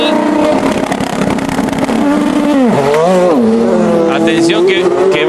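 IndyCar race car engine droning loudly and continuously, its pitch dipping and rising as revs change mid-clip, under a commentator's voice at a street race track, with crowd and track noise around it.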